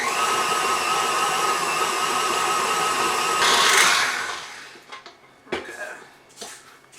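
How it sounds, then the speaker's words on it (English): An electric mixer creams butter and brown sugar for chocolate chip cookie dough, a loud steady whirring that drones for several seconds, then cuts off, leaving a few clinks and light kitchen knocks. "I didn't want the mixer to drown me out"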